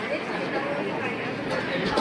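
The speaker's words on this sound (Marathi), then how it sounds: "बापरे इतकी गर्दी." Busy crowd babble fills a railway station platform as a train arrives, many overlapping voices murmuring at a steady level with no single speaker standing out.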